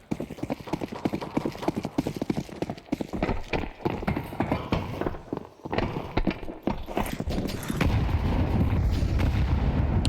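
Two grenades exploding in Counter-Strike during a StarLadder Budapest Major match, heavy booming blasts after a stretch of rapid clattering gunfire and footsteps, ending in a loud rumbling roar.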